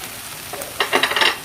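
A ripe slice of kudampuli (Malabar tamarind) drops into a pan where fish is frying for meen pollichathu, followed by a burst of crackling sizzle and stirring, close and moderately loud, with no talk.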